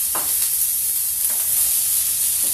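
Oil sizzles in a warm pan, a steady, close, bright hiss with a few soft crackles and pops rising out of it, with no talk.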